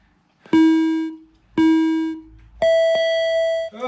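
Three loud electronic interval-timer beeps mark a Tabata home workout: two identical held tones about a second apart, then a longer higher-pitched tone signalling the switch, each clear and close with no talk.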